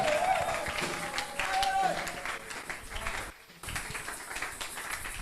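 A church congregation applauding and cheering, with steady clapping and crowd noise under a voice talking over it, and a short dip in volume partway through.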